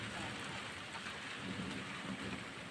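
Heavy rain pours steadily over a village during a storm with hail, with a deep, low thunder rumble running underneath. The noise is dense and constant throughout, and no voices are heard.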